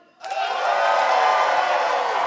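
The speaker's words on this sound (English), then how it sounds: "stand up and yell as loud as you can and clap on 3" A seated audience at a symposium keynote in Tacoma stands and yells and claps together on cue, a sudden loud roar of cheering and applause that starts abruptly and holds steady at full volume.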